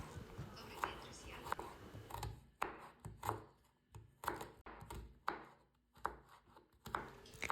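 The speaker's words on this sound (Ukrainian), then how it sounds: "беру три середніх морквини, нарізаю колечками, а потім смужками" Repeated knife chops through carrots on a cutting board, steady and close, each a sharp broadband tap at an uneven rhythm.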